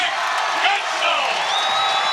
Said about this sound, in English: This crowd's going nuts for Jake Gensel